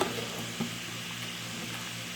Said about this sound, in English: Now I'm going to pour in the bow ties. And give it a good stir.